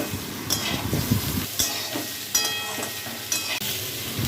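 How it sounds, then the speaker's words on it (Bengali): Bitter gourd sizzles in a hot pan with boiled potato and pointed gourd as a spatula stirs and scrapes now and then, close and fairly loud. "এবার অ্যাড করলাম আমি উচ্ছেগুলো।"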